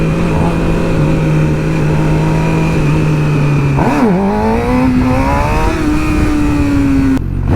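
A Yamaha FZ-07 motorcycle engine roars loud and close throughout, its pitch dipping and climbing through revs during a wheelie, with a sharp cut at the end.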